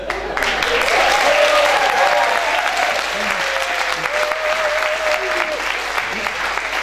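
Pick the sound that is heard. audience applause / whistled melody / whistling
audience applause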